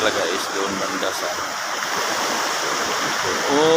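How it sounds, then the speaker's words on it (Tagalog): Waves at a surfing beach give a steady, loud wash of rushing water, swelling slightly near the end, while a voice speaks faintly over it. "malakas ang yung alon dito, pwede magsusurfing."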